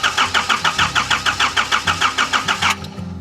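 An RV engine with a weak battery cranks in a steady run of about twenty labored, rhythmic turns over a few seconds before catching and settling into a low idle, loud and close with no talking.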